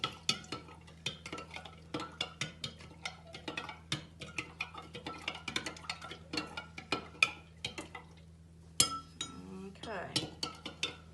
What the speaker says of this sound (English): Mix, mix, mix. One hand holds the jug and one hand holds the spoon.